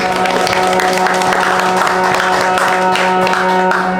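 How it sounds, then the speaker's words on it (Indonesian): Audience applause during a biographical theatre event about Prof. Herman Johannes, a steady wash of many hands clapping heard over a sustained musical drone and faint crowd murmur. "Mari kita beri tepuk tangan dulu"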